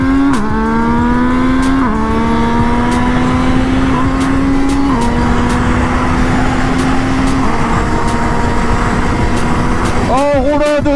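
Motorcycle cruising at high speed on the German autobahn, a loud, steady engine drone with harmonics that step upward through gear changes, wind roar throughout, and a rider's voice talking over it.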